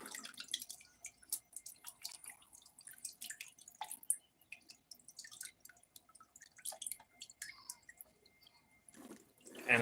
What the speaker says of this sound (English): And I'm adding more water to this cleanup, to this sluice.